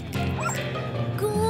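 A dog gives a few short yipping barks and whimpers close by, with a voice speaking briefly over them.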